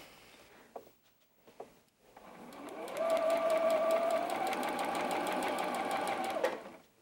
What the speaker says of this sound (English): Now I can go ahead and sew my seam.